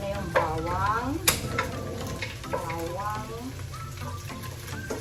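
Garlic sizzles and crackles in oil in a pan while being stirred, a steady frying hiss with scraping strokes under a woman's speech, cooked at home for a rainy, cold-weather dish.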